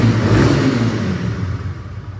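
A Honda CBR 125R motorcycle engine revs loudly close by, rising at first and then easing off as the revs fall, with no talking.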